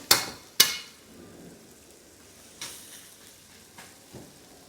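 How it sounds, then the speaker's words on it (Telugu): Curry leaves hit a hot pan for hotel-style aloo fry for masala dosa, with two sharp metallic knocks followed by a soft sizzle and a few fainter spoon taps. "ఆ తర్వాత కరివేపాకు వేసామండి."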